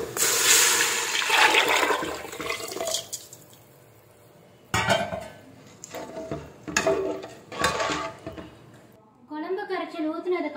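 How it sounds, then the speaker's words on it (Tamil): Diluted tamarind kulambu liquid poured from a vessel into a pan over sautéed onions for a fish curry, a rushing splash with a few clinks of metal utensils, in short bursts with quiet gaps. "இந்த டைம்ல கரைச்சி வச்சிருக்க குழம்பு தண்ணியை இதில் ஊற்ற போறோம்."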